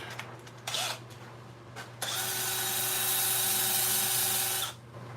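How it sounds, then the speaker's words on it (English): Sandpaper rubbing against a turned wooden bowl spinning on a lathe: a few short scuffs at first, then a long steady hissing rasp that cuts off near the end, over a low motor hum. "we'll take a little sandpaper to this and see what happens"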